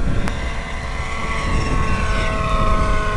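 Icon A5 model airplane flying overhead, a steady continuous propeller and motor drone with a bright whine that holds fairly loud throughout.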